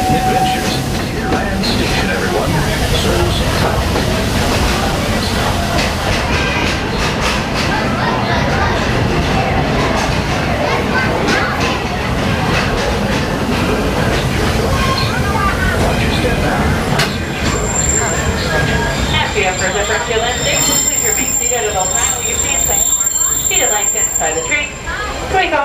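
The Walt Disney World Railroad train rolls into Frontierland Station and comes to a full stop, a rumbling, clattering ride that eases off near the end, with crowd chatter and announcements throughout.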